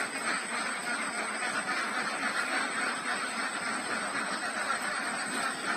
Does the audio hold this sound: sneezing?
no